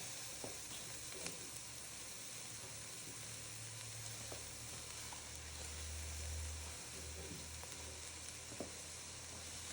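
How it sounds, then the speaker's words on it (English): Kale hits a hot pot on low heat for a Zuppa Toscana casserole, giving a steady, close sizzle and frying hiss that runs throughout with a few soft stirring clicks and no talking. "Now, to the pot, I'm adding kale."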